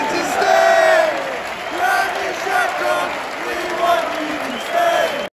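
A huge football crowd at Emirates Stadium bids farewell to Arsenal's Granit Xhaka, chanting in loud rhythmic waves of massed voices that swell and fall repeatedly.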